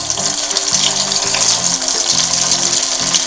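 A loud, steady hiss of cut idli pieces frying in hot oil fills the scene, with soft tonal music underneath.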